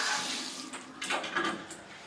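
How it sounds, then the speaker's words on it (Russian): Water running from a tap into a bathroom sink with a hygienic shower nearby, a steady splashing hiss that fluctuates as the flow is adjusted, close and moderately loud with no talk. "вода"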